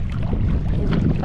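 Wind buffets the microphone on an island shore, a brief rough low rumble with steady gusting noise and no voices.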